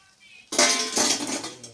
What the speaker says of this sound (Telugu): ఈ విధంగా బాగా కాలిన తర్వాత తీసి ఒక బౌల్లో వేసుకోవాలి.